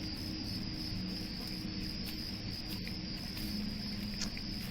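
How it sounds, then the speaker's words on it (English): Crickets chirping in the video game Deus Ex Revision: a dense, steady high-pitched trill with rapid pulsing chirps, continuous and fairly loud, alone with no voices. "Crickets are really loud."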